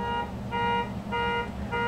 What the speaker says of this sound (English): That's my neighbor's car alarm.